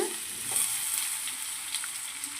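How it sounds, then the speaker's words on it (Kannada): Vegetables sizzle and fry in oil over a low flame for vegetable upma, a steady hissing crackle that holds even throughout with no voices. "ಎಣ್ಣೆಯಲ್ಲಿ ಲೋ ಫ್ಲೇಮಲ್ಲಿ ಬಾಡಿಸಬೇಕು ಬಾಡಿಸಿದ ನಂತರ ಈ ರೀತಿಯಾಗಿ ಎಣ್ಣೆಯಲ್ಲಿ ಬಾಡಿಸಿದ ನಂತರ"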